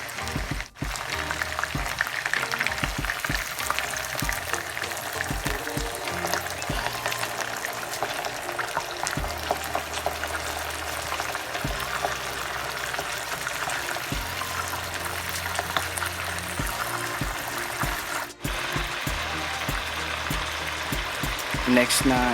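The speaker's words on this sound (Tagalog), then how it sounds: "so pwede na po natin lagyan ng suka" Browned chicken adobo with bay leaves and whole peppercorns sizzles steadily in a pan as vinegar goes in, a continuous loud frying hiss throughout while someone talks over it.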